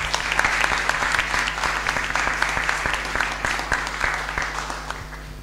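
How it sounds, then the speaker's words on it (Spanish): Youth municipal council session audience giving a strong round of applause for the councillors, brisk continuous clapping with a steady low hum underneath, tapering near the end. "Un fuerte aplauso para ustedes."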